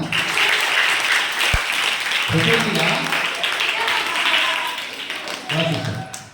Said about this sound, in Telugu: అది క్లాప్స్ కొట్టరా